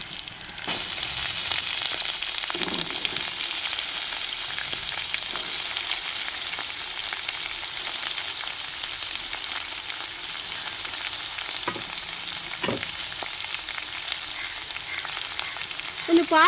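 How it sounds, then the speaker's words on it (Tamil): Shredded cabbage frying in a pan for coconut milk rasam, a steady close sizzle broken by occasional spoon scrapes and stirring knocks, with no talking. "இதோட நம்ம முட்டைக்கோசையும் சேர்த்துக்குருவோங்க"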